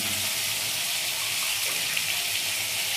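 Water poured over poppy seeds and two dried chillies, making a steady, close, hissing stream with no voices.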